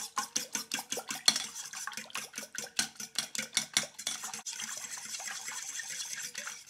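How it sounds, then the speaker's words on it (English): A fork whisks water, vinegar and eggs together in a bowl for homemade pie crust, making a rapid, steady series of close scraping clicks against the bowl that continues throughout with no talking. "And I'm going to whip this with just a fork."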